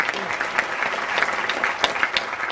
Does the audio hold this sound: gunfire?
no